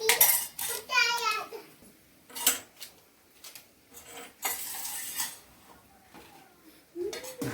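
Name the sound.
stirring Maggi noodles in a pan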